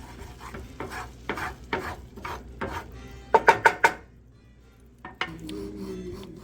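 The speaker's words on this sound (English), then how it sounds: "Get all that flavor off the bottom of that pan." A utensil scrapes and stirs across the bottom of a pan of goulash, in repeated rhythmic strokes with a light sizzle underneath and a brief clatter of sharp metallic knocks partway through, close and clear.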